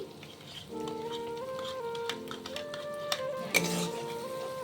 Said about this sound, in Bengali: খুব ভালোভাবে আস্তে আস্তে কষিয়ে নেব কারণ দই দিয়ে বেশি আঁচে কিন্তু মশলা কষানো যাবে না